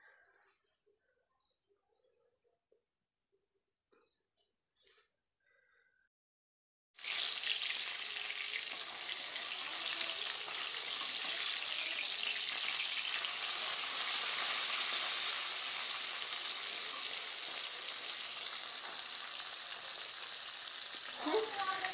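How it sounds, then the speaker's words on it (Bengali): Fish frying in a pan, a strong steady sizzle and crackle that starts abruptly after several seconds of near silence with faint scattered knocks, then holds loud and close. "মাছটা ভাজা হয়ে গেছে"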